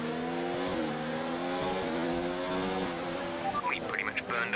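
Formula 1 race car engine in the F1 2019 game at the Monaco circuit, a loud, sustained high-pitched whine that rises and falls through gear changes, with a brief burst of other engine or tire noise near the end.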